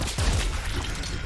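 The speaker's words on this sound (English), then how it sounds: "So that's like a laser cannon, which is pretty cool." A laser cannon fires in the Ripout video game, a short burst of heavy booming blasts clustered near the start and then a rumbling tail, with no one speaking.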